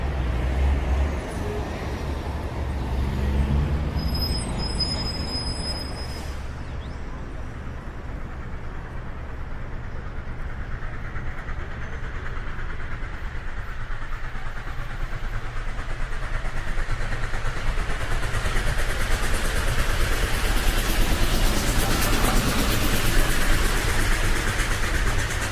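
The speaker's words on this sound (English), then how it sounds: "as you can probably hear from maybe the sounds behind us, is we're now back on the Heathrow Express train heading back to Heathrow Airport" Heathrow Express train heading to Heathrow Airport, a steady low rumble of the rail carriage in motion that builds gradually louder over about twenty-five seconds, with a brief high electronic chime early on.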